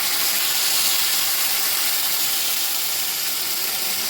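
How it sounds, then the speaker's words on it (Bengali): Onion-garlic paste hitting a frying pan of fried onions, a loud, steady, dense sizzle that holds unbroken throughout, close up with no talk. "এখন পেঁয়াজ রসুন পেস্ট দিয়ে দিচ্ছি"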